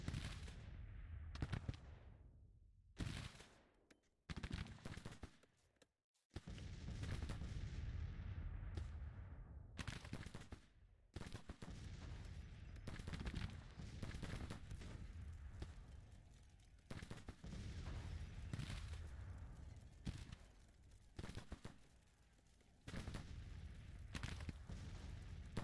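Musket volleys and artillery fire from a Civil War battle in the Grand Tactician: The Civil War video game, with dense, continuous crackling gunfire and repeated heavy booms that are loud and sustained, broken by a couple of brief pauses.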